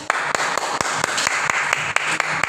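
Children clapping together in a class, a quick run of about a dozen sharp, fairly even claps over a noisy room background, with no talking.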